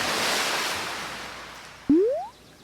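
Indian Ocean surf washes in a broad, even roar that slowly fades, then a sharp rising whistle-like tone cuts in near the end.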